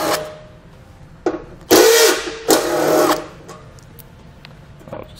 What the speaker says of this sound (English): There's two bolts to take off with a 10 millimeter socket.